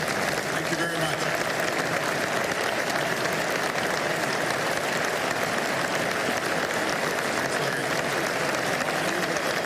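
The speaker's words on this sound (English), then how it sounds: "the crowd packed with energy and business leaders gave him a standing ovation" A business crowd gives a standing ovation, with steady, dense applause that fills the room evenly from start to finish at a moderate level.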